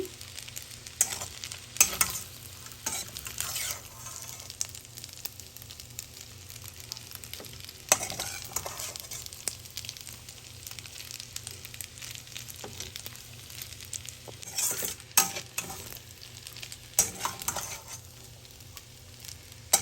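Vegetable chow mein stirred in a hot pan, a soft steady sizzle broken by repeated scraping and tossing clatters, close and fairly quiet, with no one speaking.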